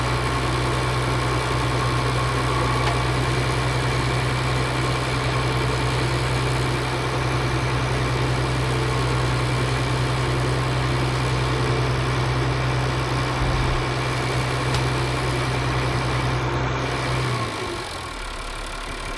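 A farm tractor engine idles for nearly twenty seconds with a steady, low, throbbing drone and faint mechanical rattle close by, then cuts out near the end, leaving quieter background noise.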